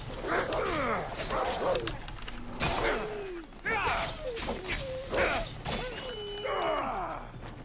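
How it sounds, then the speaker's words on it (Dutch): Wolves in the video game Assassin's Creed: Odyssey bark and yelp repeatedly in quick bursts, close and fairly loud, with some whining cries mixed in. "Wolven."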